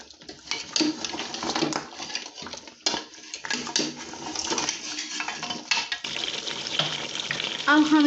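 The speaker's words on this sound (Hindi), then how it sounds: "और अच्छी तरह भून लेंगे" Boiled beef trotters (paye) are fried in cooking oil in a pot, with irregular scraping and clinking of a spoon against metal over a soft sizzle, close and fairly loud.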